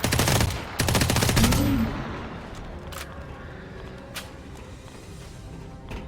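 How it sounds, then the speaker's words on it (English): Automatic weapon in the Dysterra shooter game firing a few loud, rapid bursts up front, then the shots give way to a quieter stretch of low rumbling ambience with occasional faint clicks. "And although I'm not in burst mode on the weapon, I am firing in bursts."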